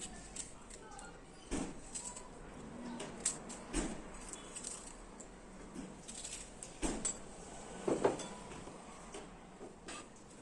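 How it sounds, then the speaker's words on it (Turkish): Unpeeled apples are diced into cubes with a knife, producing sparse, quiet taps on a cutting board at irregular intervals, close but faint over a low room hum. "Elmaları kabuğuyla bu şekilde küp küp doğruyorum"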